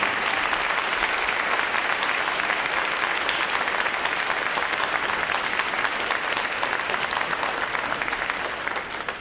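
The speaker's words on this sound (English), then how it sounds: "Would all our veterans please rise and give you a round of applause." A large crowd at a U.S. Navy recruit training graduation breaks into steady, sustained applause, dense and even throughout before easing slightly at the end.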